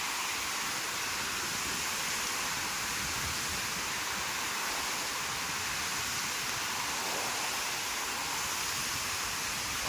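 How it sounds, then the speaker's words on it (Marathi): Rain falls steadily outdoors, a dense even hiss that neither swells nor fades, with no voices. "पाऊस आलेला आहे."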